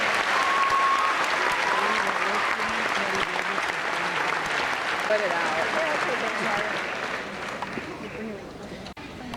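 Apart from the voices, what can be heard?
applause at graduation ceremony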